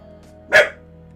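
A single sharp dog bark at close range indoors, one short loud burst standing out against a quiet room with a faint steady hum.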